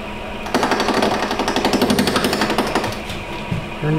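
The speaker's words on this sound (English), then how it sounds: "then you just turn the lathe on" A wood lathe spinning a wooden sphere held in a jig starts with a sudden onset and settles into a loud, steady rattling chatter of rapid regular pulses, easing off near the end.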